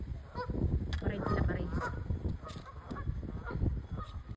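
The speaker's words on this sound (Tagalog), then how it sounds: "Nagpaparade ang mga dito, ang mga duck." Several geese or ducks honk and call repeatedly in a loud, bustling flock, with calls overlapping close by as the birds parade past; faint voices murmur underneath.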